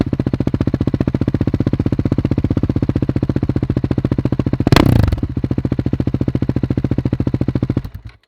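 Single-cylinder Husqvarna 701 motorcycle with an FMF exhaust idling loud and close, a fast steady thumping pulse with a brief blip in the middle before the engine shuts off.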